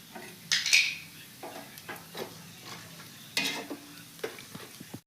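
Bay leaf, whole cumin and whole garam masala spices crackle briefly in hot oil for chicken biryani, with short sharp sizzling bursts, utensil clinks and spatula taps, fairly quiet and close.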